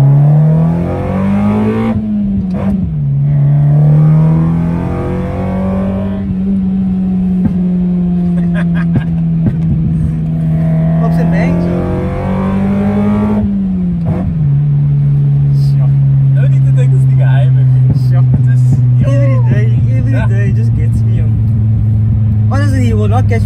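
A Toyota Corolla AE92 with a 7AFE engine on individual throttles idles and revs, with a steady rumbling drone that rises in pitch during two blips, heard loud and close under talking.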